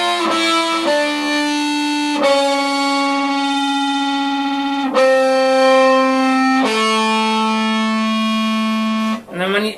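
Sustained, heavily distorted electric guitar notes through a WD Blue Clipper fuzz pedal, each ringing several seconds before changing pitch, thick with buzzy fuzz overtones.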